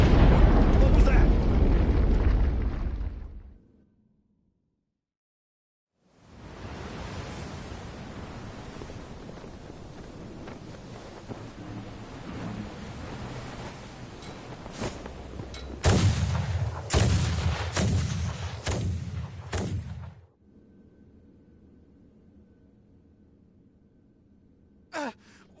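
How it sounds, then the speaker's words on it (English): Naval bombardment explosions in the video game Star Ocean The Divine Force: a loud rumbling blast, a silent pause, then sustained booming with several sharp impacts, fading to a low hum and a final small pop. "We are taking massive fire from the Empire's naval battalion. Their unceasing bombardment is laying waste to our forces."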